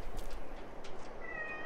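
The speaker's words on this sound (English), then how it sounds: "My cat just begged to come into my room." A cat meows from close by, begging to be let into a room, with a few short plaintive calls over a steady background hum and no talking.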